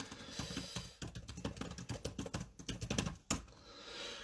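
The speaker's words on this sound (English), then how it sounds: "You can hear me typing away, tap," Rapid tapping on a computer keyboard, a busy irregular run of close, crisp keystrokes with brief pauses, heard alone without talk.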